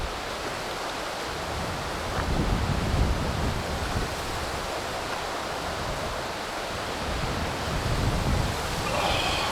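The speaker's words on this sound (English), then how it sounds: "This wind is an absolute nightmare." Strong wind blowing at a carp fishery, a steady, loud broadband roar buffeting the microphone throughout with slight surges, no talk heard.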